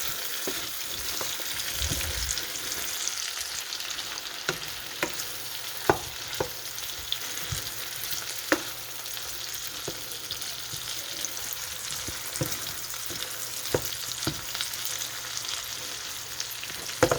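Apples sizzle in grease in a skillet with a steady crackling hiss, broken by occasional sharp clicks and scrapes of stirring.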